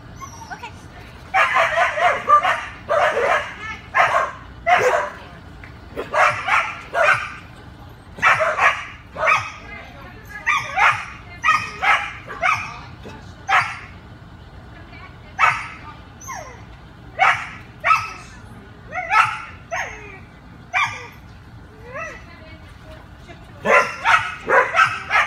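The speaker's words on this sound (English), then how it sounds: "She's barking for me." A dog barks in short, irregular bursts with occasional yips, loud and fairly close, with brief pauses between groups of barks over a quiet background.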